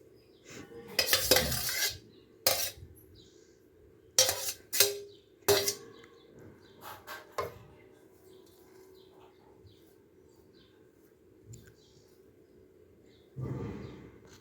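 A utensil scrapes and clinks around a large pan while shavige bath vermicelli is mixed, coming in loud bursts of stirring with quiet pauses between, and one more scrape at the end.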